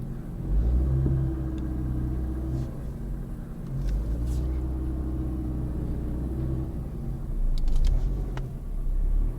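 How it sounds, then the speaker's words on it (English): A Peugeot 607 moves off slowly inside a compound, its engine giving a low, steady rumble with a few mild surges, fairly quiet and heard from close by with no talk. "Let's see how the car moves."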